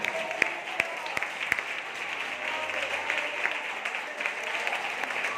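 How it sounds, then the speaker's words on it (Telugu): A church congregation claps to praise God during a fasting prayer service, a steady wash of applause with a few sharp separate claps standing out near the start. "నమ్మదగిన వాడికి చప్పట్లు కొట్టి దేవుని స్తుతించండి"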